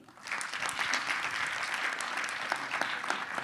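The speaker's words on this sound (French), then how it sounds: "merci de l'applaudir" Conference audience applauding a speaker, a dense patter of clapping hands that swells quickly and holds steady for a few seconds in an indoor hall.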